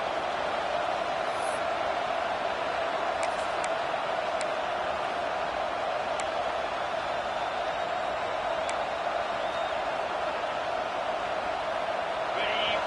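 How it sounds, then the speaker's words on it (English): A roaring stadium crowd in the NCAA 26 college football video game, a dense steady wash of cheering and noise that holds loud and unbroken throughout, with a few faint higher whistles or shouts poking through. "This crowd, full throat, spreading the eardrums"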